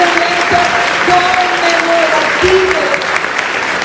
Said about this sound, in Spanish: Yo de usted le doy un aplauso al Señor